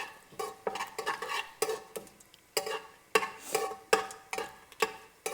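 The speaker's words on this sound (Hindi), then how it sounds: "अब हम इसमें डाल देंगे जीरा, तेज पत्ता, एक मोटी इलायची" Cumin, a bay leaf and a black cardamom go into hot oil, followed by a run of rhythmic spoon scrapes and clinks against the pan over soft crackling, fairly quiet and close.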